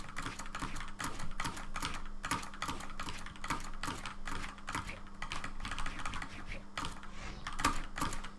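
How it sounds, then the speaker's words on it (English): Rapid clattering keystrokes on a computer keyboard during fast game-movement practice, a dense, continuous stream of clicks heard close and fairly quiet under a faint steady hum. "as you can see from my on-screen keyboard, this might get a bit noisy"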